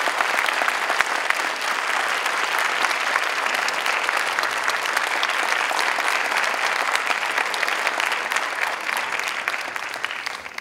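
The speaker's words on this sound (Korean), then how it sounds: "큰 박수로 맞이해 주시기 바랍니다." Audience applause at a Korean university retirement lecture for an architecture professor, a sustained, dense clapping from a full hall lasting the whole stretch at steady loudness with no speech over it.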